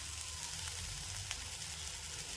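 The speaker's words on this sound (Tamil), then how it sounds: "நல்லா ஃப்ரை பண்ணினே இருக்கணும்" Banana flower and egg poriyal frying in a pan, a steady soft sizzle with a faint crackle running evenly throughout, moderately close with no talking.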